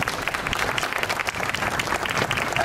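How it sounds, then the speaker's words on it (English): Steady applause from a small crowd honoring youth graffiti mural artists at an outdoor unveiling, a dense patter of many hands at moderate distance without talk. "I'd like to give them a round of applause"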